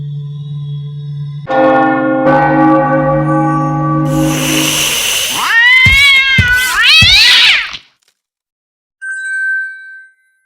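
A bell ringing from a bell tower in the game Brunhilda and the Dark Crystal, a loud sustained tone over music, with a cat's meowing and yowls partway through and a short ding near the end.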